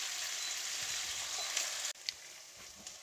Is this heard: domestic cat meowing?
no